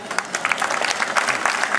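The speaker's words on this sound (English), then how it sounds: "let's give them a round of applause instead" Aquarium show crowd claps for Pacific white-sided dolphins at the Vancouver Aquarium, a short burst of steady, close applause.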